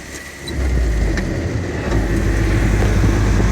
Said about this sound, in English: I don't like revving the engine that high